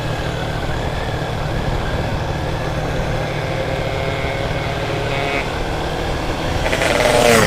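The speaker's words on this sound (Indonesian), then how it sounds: "Ada truk, angkot, kendaraan pribadi, motor." Steady roar of road traffic of trucks, minibuses, cars and motorcycles rumbling past on a road from Cibadak to Pelabuhan Ratu, Indonesia, a heavier vehicle swelling louder near the end.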